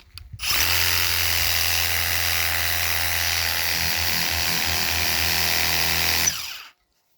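A Worx 633 cordless pressure washer with a 25-degree nozzle runs as a steady, loud motorized whine and spray hiss, starting abruptly and holding constant for about six seconds before cutting off.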